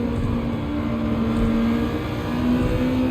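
Camaro with a manual gearbox in the Gran Turismo 7 racing game, heard as a steady, loud engine drone at sustained speed, with a low rumbling tone holding throughout.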